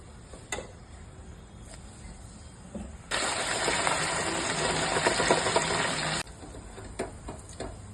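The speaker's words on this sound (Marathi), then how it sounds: "चिकन मी एअर फ्रायरमध्ये आता तळून घेत आहे" An air fryer frying chicken whirs on with a steady fan hum for about three seconds, then cuts off, with faint clicks before and after.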